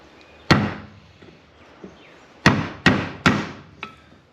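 A hammer striking a chisel to drive out a transmission mount bushing on a Mitsubishi Evo 8, several sharp metallic blows spaced irregularly, close and loud in an otherwise quiet garage.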